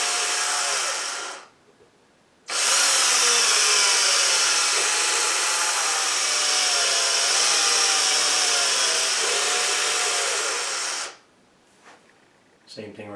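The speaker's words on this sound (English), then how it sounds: "Make sure you have it on there and just drill very easily." A steady, high-pitched whine of a small drill boring a small hole for a drawer handle, running continuously for several seconds, starting and stopping abruptly, close and fairly loud.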